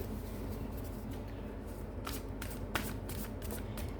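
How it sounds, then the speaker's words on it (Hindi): Playing cards that have fallen are gathered up by hand, giving soft shuffling and scraping rustles with a few sharper card slaps near the middle, close and fairly quiet, with no talking. "कार्ड्स गिर गए। एक सेकंड, मैं कार्ड उठा दूं।"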